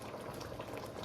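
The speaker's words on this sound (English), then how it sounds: "I'm gonna put a little bit of water" Water pours into a pot of chili with meat and beans, a quiet, steady bubbling fill that runs unbroken for about a second.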